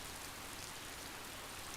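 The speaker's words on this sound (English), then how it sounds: "It began to rain harder" Heavy rain effect from the Hakuoki video game: a dense, even hiss of steady downpour, constant and fairly soft, with no voices.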